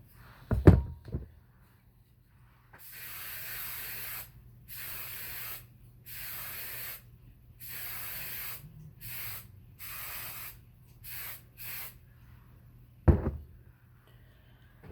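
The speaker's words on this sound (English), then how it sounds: "you're just going to spray the whole cup down with your hairspray" A series of hissing Aqua Net hairspray sprays onto a cup, each a second or two long with short pauses between, bracketed by a couple of soft knocks.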